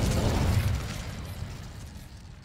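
Incendio fire spell cast in Hogwarts Legacy, a loud whooshing burst of flame that swells in the first second and then thins into a lingering rumble and crackle.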